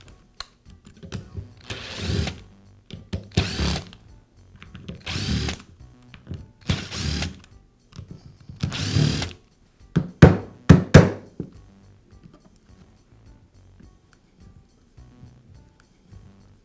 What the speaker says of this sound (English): Now I can split the two halves of the motor housing by removing the screws.